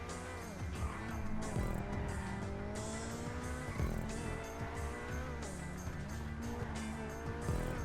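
A Coquette D10 sports car in the racing game GTA skids through a hard turn, tires squealing in repeated bursts over a loud, steady engine drone close to the listener, with no talking.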